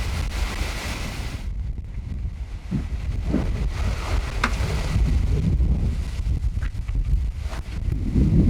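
Strong wind roars across the microphone aboard a sailing boat flying a spinnaker at sea, with wave wash and a few short creaks and knocks underneath, and no voices.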